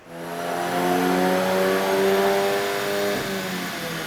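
A Volkswagen MK8 GTI with its current bolt-on mods, still on the stock tune, pulls on a chassis dyno. The engine drones loud and close as its pitch climbs steadily for several seconds, then eases off.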